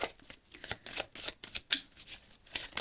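Tarot cards being shuffled by hand, a rapid series of soft riffling flicks and slaps in quick irregular bursts, close and fairly quiet, with no voices.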